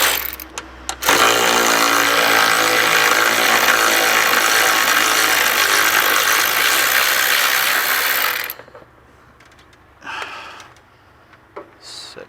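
A ratchet with a 10mm socket loosens a radiator bolt on a Toyota Tacoma, a loud, continuous close-up mechanical clicking and whirring lasting about eight seconds, followed by a few fainter knocks and brief handling noises.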